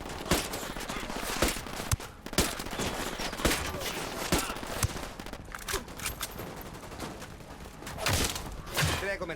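Sniper gunfire cracks repeatedly in Ghost Recon Wildlands, loud sharp shots scattered through dense battle noise, with voices shouting in the mix.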